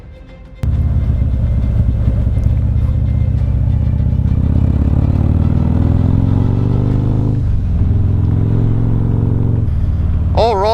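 A Harley-Davidson Street Glide Special motorcycle starts and rides off, its engine and road noise loud and constant, with revs rising and falling through gear changes before a brief whine at the end.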